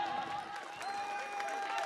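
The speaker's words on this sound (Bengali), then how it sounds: "একটা জন্য হাততালি হয়ে যাক।" Applause from an audience at a stage event as a guest is honoured with a shawl and memento, a soft, steady rattle of clapping hands with a sustained musical tone beneath it.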